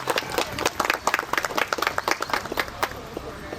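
An audience at a store's lucky draw event claps to welcome customers, a dense burst of many hands with the clapping rising and thinning slightly over a few seconds.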